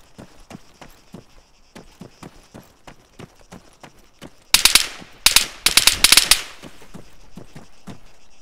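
Gunfire in the shooter game Arma 3 during a battle royale match: sharp, evenly spaced single shots, then several loud rapid bursts of automatic fire close by, ending with a few scattered shots.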